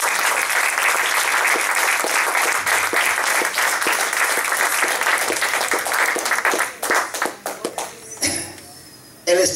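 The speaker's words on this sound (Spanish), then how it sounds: "Dale un aplauso al Señor." Dense applause from a church congregation, loud and sustained, then breaking up into scattered individual claps that taper off near the end, with no talk over it.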